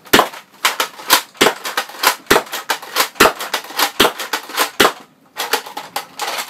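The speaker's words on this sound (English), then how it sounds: "I'm gonna fire off a whole bunch of them." A modded Nerf Kronos blaster with 3D-printed parts firing Elite darts, a rapid run of sharp, loud snapping shots in close succession, briefly pausing before a few more, with no talk.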